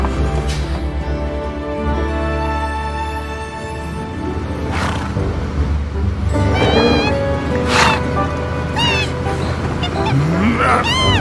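Birds in the video game Final Fantasy VII Remake give loud rising honks and squawks, several distinct calls breaking over a constant droning game soundtrack with music and ambient rumble.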